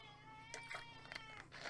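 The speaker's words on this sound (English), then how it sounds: "That is my cat." A pet cat meows and complains in a quiet room, several short plaintive calls close by over a faint steady hum.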